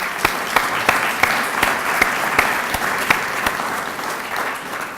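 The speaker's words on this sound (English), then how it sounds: "So let's give them a round of applause" A lecture audience gives a sustained round of applause, dense steady clapping with a few sharper claps standing out, loud and close throughout.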